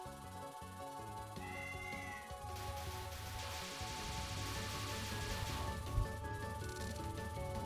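A cat meowing inside a Touhou 11 game session, a short meow heard over a steady bed of game music and effects, moderately faint and close.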